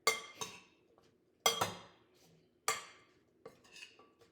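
A spoon tosses a celery and apple salad dressed with lemon juice in a bowl, giving four sharp clinks of metal against the dish at a steady rhythm, each followed by a soft scraping rustle, close and alone.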